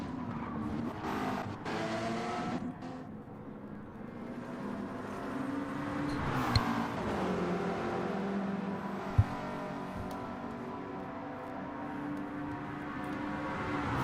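Race cars drive on the Orosei track in Gran Turismo 7, their engines droning and rising and falling in pitch at moderate volume as they accelerate and pass. One brief knock cuts through partway.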